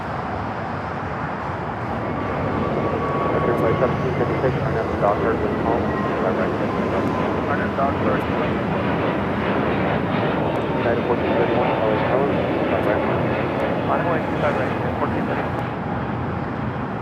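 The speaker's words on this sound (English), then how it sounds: "Asiana Flight 204, the flight coming in from Seoul, next arrival on the north side." Asiana airliner arriving from Seoul at LAX, a sustained jet engine roar with broadband rumble swelling and holding steady, heard at a distance outdoors while a person talks over it.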